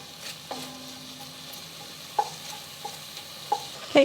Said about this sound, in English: we're going to add our shallots. I'm going to cook this for about 2 to 3 minutes